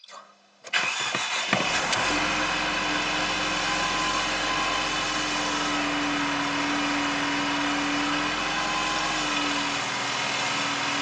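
A Mercedes sport coupe engine cranks briefly, catches after about a second, then settles into a steady, close, loud idle with a constant hum that holds to the end.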